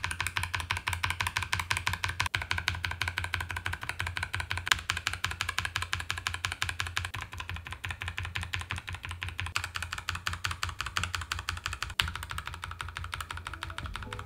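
Typing on a Nuphy Air 75 v2 low-profile wireless keyboard with various switches produces a rapid, steady stream of crisp, close key clicks and taps that runs without a break and with no talk.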